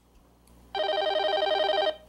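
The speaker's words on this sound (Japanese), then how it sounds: "電話が鳴って" A telephone ringing during a narrated Japanese short story, one sustained electronic ring of just over a second that starts abruptly after quiet and then cuts off, heard alone without voices.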